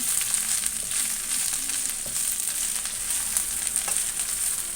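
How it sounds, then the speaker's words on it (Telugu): Drumstick leaves frying in a pan for a chutney, a steady close crackling sizzle with faint stirring, no talk. "ములమాకులన్నీ కూడా శుభ్రంగా వేగాలండి"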